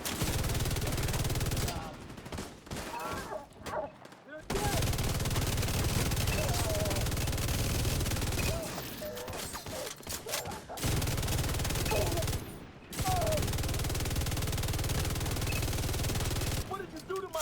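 Rapid automatic gunfire in a first-person shooter game, loud and sustained in long bursts broken by brief pauses, with game voices speaking between the volleys.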